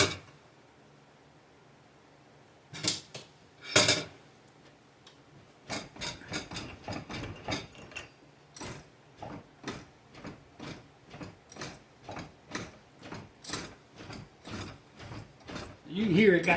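A fender lip roller tool is cranked along the lip of a Mustang fender, giving a few isolated clanks and then a steady run of rhythmic ratcheting clicks and creaks, fairly close and alone.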